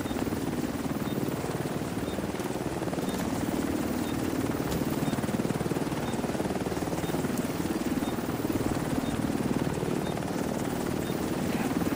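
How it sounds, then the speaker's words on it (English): Extraction helicopter from the video game The Division 2 gives a steady, loud rotor and engine roar throughout, a dense unbroken drone with no pauses. "Helo will depart in 30 seconds."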